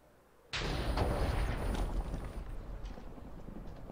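A loud explosion from the video game Minecraft bursts in suddenly, then a dense rumbling roar holds steady and slowly trails off, with no talk over it.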